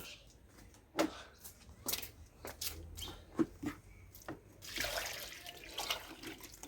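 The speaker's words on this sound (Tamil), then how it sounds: "நான் செடிக்கெல்லாம் தண்ணி ஊற்ற போகிறேன்" Water splashing and pouring in irregular bursts onto home garden plants, with scattered clatters and a steadier gush later, close by.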